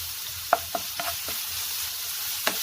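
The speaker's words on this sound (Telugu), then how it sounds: "దీనిలోనే ఇప్పుడు కరివేపాకు వేసుకోండి." Curry leaves hitting hot oil while making cauliflower fry: a continuous hissing sizzle with a few sharp pops and crackles scattered through it, close and fairly loud, with no talking.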